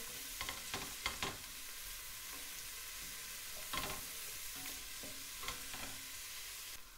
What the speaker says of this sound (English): Watch you don't burn the garlic. Keep giving it a move.